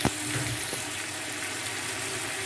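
Pieces of potato or green banana frying in hot oil for kofta curry, giving a steady, close, broadband sizzle with a small splash at the start and no talking.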